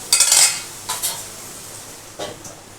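A spoon scrapes and clinks against a pan while stirring paneer korma with capsicum, a few short distinct strokes close by with a quiet pause between them.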